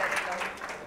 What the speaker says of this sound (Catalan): Un aplaudiment, si us plau, pel que acaba de fer la Pilar.